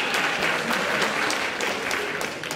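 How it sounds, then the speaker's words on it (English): Applause at a national congress annual general meeting, steady brisk clapping from a seated audience that holds at an even level before tapering slightly at the end. "A round of applause to Manari."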